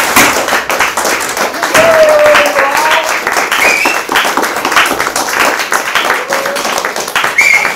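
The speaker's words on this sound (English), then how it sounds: "So a big applause." School audience at Montgomery International School Brussels applauds MYP4 students, steady close clapping throughout with scattered voices and faint whistles mixed in.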